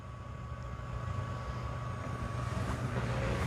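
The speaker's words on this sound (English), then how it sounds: "Now I can hear a fan." A steady, even drying fan hum from a Narwal Freo X Plus robot vacuum dock drying its dust bin, a faint constant tone, running continuously without change and getting slightly louder toward the end.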